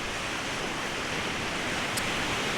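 Evening sea at Peraküla beach on the Estonian coast makes a steady, unbroken hiss of gentle surf that fills the whole stretch without change, and no one speaks.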